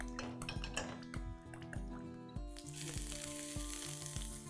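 Ginger, garlic and mushrooms sizzle in oil in a pan for hot and sour vegetable soup, a steady frying hiss under clinks and scrapes of a metal utensil against the pot.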